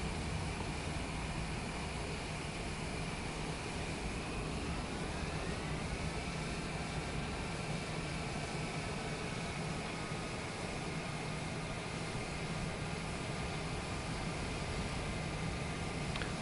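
A jet airliner in Microsoft Flight Simulator 2024 taxis on the ground, its engines giving a steady whine and broad rushing roar throughout, with a tone that rises partway through.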